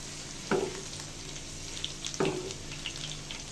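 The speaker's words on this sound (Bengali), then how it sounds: "এখন মিডিয়াম জাল রেখে পাকোড়াগুলো ভেজে নিব" Cabbage pakoras deep-fry in hot oil at medium heat, a steady sizzle broken by two louder bursts of bubbling and stirring as pieces are turned in the pan.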